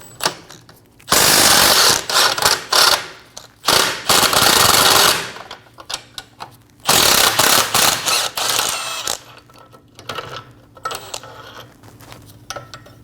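Power tool with an 18mm socket spinning out a lower control arm bolt on a 2012-2022 Volkswagen Passat, loud rapid hammering bursts of two or three seconds each. Shorter stuttering pulses come between them.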